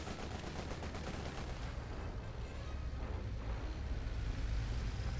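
Incendiary mortar barrage in Company of Heroes 2 striking a mortar emplacement: a dense, continuous roar of battle rumble and crackling impacts that holds steady and grows slightly louder, with no voices.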